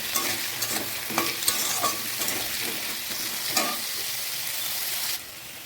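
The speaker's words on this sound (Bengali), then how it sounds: "আলুটা আমি লাল লাল করে ভেজে নেব।" Potatoes seasoned with a little salt fry in hot oil for a soy chunk and egg dish, a steady close sizzle broken by a few scraping stirs, then quieting near the end.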